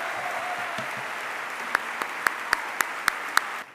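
Applause welcoming three candidates to a mayoral debate in Guatemala, a broad wash of clapping that thins into a few distinct sharp claps near the end before cutting off; fairly quiet.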